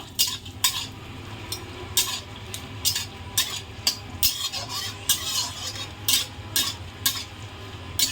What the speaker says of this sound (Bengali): অল্প কিছু জিরে দিয়ে দেবো দুটো তেজপাতা আমি ছিঁড়ে নিয়েছি সেগুলো দেবো আর চারটে পাঁচটা শুকনো লঙ্কা দেবো এবার ভালো করে এটা নাড়িয়ে নেব